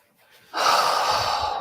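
A deep breath comes after a moment of near silence, a long, steady breath drawn in close to the microphone during a quiet meditation.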